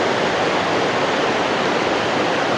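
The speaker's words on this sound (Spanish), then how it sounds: "acá el río Aguas Calientes" The Aguas Calientes river rushing through Machu Picchu town, a loud, dense, unbroken roar of churning water close by.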